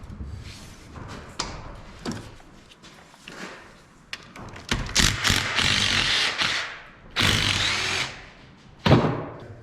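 A Dodge Sweptline D100 3-speed transmission is torn down with a ratchet: irregular metallic clicks, clanks and rattles of tools and parts, some bursts louder and longer than others, with pauses between.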